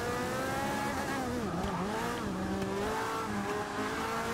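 Corvette GT race cars roar around the Hockenheim circuit in Forza 6, engines droning and rising and falling in pitch as they accelerate and shift, a continuous, close, loud motor sound.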